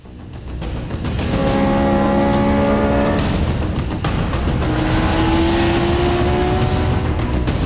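Race cars driving in the Assetto Corsa racing game, engines droning and rising in pitch as they accelerate, loud and steady throughout with no talking.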